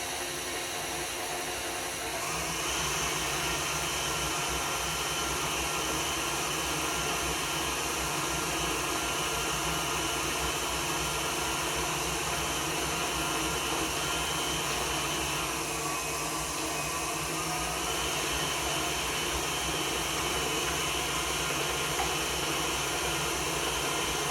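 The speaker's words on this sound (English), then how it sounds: "if you like the speed of the Kitchenaid, enjoy it right now" A KitchenAid stand mixer beats Victoria sponge cake batter at medium speed, its loud, steady motor whir and whisking starting after a brief quiet opening and running unbroken and close throughout.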